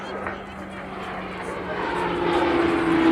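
A propeller aircraft drones overhead with a steady engine hum whose pitch shifts slightly as it grows louder, continuous and fairly close.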